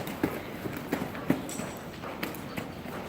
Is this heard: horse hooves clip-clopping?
yes